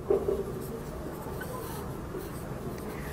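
Writing on a board during a maths lesson: a faint, continuous scratchy stroke sound with a slightly louder start.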